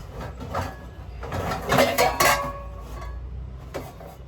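Ceramic and metal clinks and knocks as a bowl is set into a container, a cluster of clatters in the middle, then a final tap.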